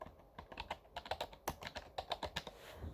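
A computer keyboard is pressed in a steady run of close, crisp keystrokes while entering game item and armor data, alone without speech.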